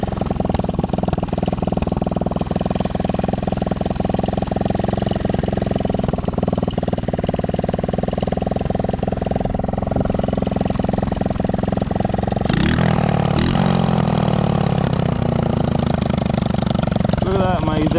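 A 110cc ATV engine runs steadily after its exhaust fell off in a snowstorm, a loud, raw, buzzing drone close by that roughens and rises briefly near the end.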